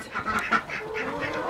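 Ducks quacking loudly and close as they are let out of an enclosure in New York City, a quick burst of overlapping calls.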